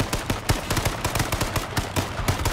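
Gunfire in the survival shooter H1Z1, a steady stream of sharp, evenly spaced shots, loud and close, with no talk over it.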